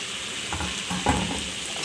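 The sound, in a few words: pre-fried tilapia fish added to pan with okra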